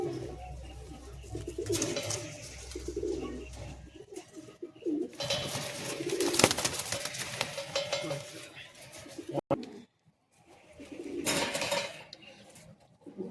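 Pigeons cooing in a loft at Bagnan, soft low coos repeating through the clip alongside rustling, clattering and other loft noise, with a brief sharp knock near the end.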